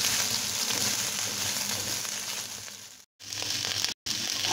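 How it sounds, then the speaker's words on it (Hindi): Chicken fries in a pan until crispy, giving a loud, steady sizzle that fills the space, with two brief silent breaks near the end and no voices. "और इसको हम थोड़ा सा फ्राई करेंगे ताकि ये ज़रा सी जो है ना क्रिस्पी क्रिस्पी सी हो जाए।"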